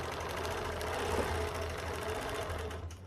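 Sewing machine stitching slowly for machine quilting with a denim needle, running at a steady, rapid, even rhythmic clatter close by, with no talking over it.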